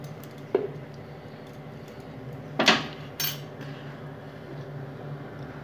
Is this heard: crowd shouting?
no